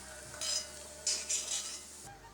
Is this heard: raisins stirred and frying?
yes